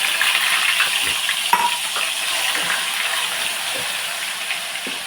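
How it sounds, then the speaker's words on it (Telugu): Onion paste fries in oil in a pan for a fish curry, a steady close sizzle marked by a few light stirring knocks and clicks. "ఇదిగోండి ఉల్లిపాయ పేస్ట్ వేస్తున్నాను"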